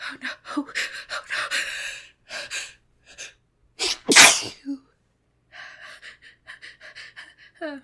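A voice murmurs and breathes with small gasps before one loud, sharp sneeze bursts out midway, followed by a pause and more soft voiced sounds.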